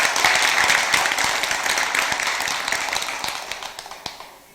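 Audience clapping at a Sunday dharma talk at Bongeunsa temple, a lively burst of many hands that gradually thins and fades away.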